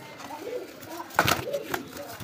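A single pigeon gives a few soft, low coos at close range, partly under a voice talking over them.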